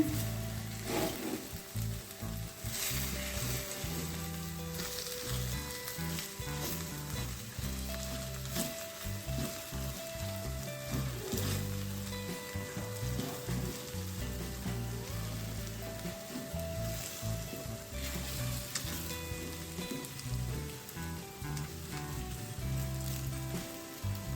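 Sliced okra sizzles steadily in a hot pan for a ladies finger stir fry, with occasional scraping and stirring knocks as it is slowly mixed; no talking.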